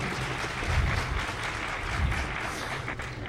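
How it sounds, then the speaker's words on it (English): An audience at the DEF CON 17 hacking conference applauds a volunteer coming up to the stage, a short, steady wash of many hands clapping at moderate volume. "Round of applause."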